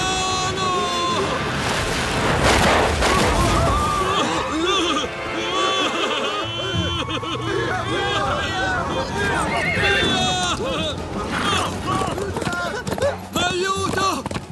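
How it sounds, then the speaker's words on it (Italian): Wild horse in a Zorro cartoon neighs and whinnies loudly with galloping clip-clop hooves, heard amid hectic music and shouting voices throughout. "Fermate questo cavallo selvaggio!"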